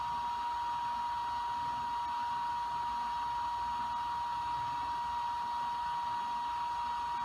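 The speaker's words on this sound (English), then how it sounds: "And that is the fan noise at half speed." Steady whirring hum of the Toolkit RC M7AC smart battery charger's internal cooling fan running at half speed, with a constant tonal whine over soft airflow noise, close up and unchanging for several seconds, with no talking.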